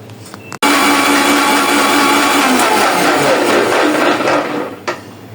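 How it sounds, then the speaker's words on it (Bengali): An electric blender whirring at full power through watermelon and sugar, a loud continuous grinding roar that starts abruptly and runs for several seconds before cutting off, no talk. "এই যে আমার ব্লেন্ডার করা হয়ে গেল।"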